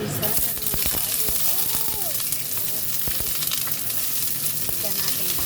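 Cabbage and vegetables sautéing in a hot pan for boneless chicken wings with mushrooms, crab meat and onion: a continuous close sizzle broken by scraping stir strokes and occasional utensil clicks, with faint voice in the background.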